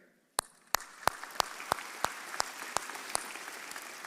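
An audience at a college commencement ceremony applauds the board members, a soft wash of clapping crowd with one nearby pair of hands striking sharply in a steady, even beat over it.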